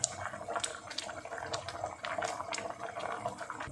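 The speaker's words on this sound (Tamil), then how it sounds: "அடுப்பை சிம்லேயே வச்சு 5லிருந்து 10 நிமிஷம் வரைக்கும் இதை நல்லா கொதிக்க வச்சுக்கலாம்" Poha milk kheer (aval payasam) simmering in a pot on a low flame, a soft, steady bubbling with small popping blips throughout, quiet and close.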